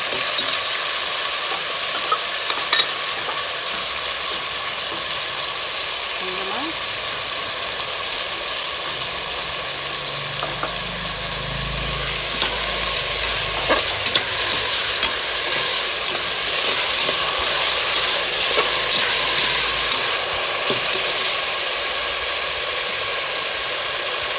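Ingredients for a Bai-style meat kari kuzhambu sauté in hot oil with salt, a loud continuous sizzle with frequent stirring scrapes close by throughout, no speech.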